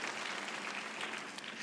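A church congregation applauds at a Sunday service, a soft, steady wash of distant clapping with no single claps standing out and no talk over it.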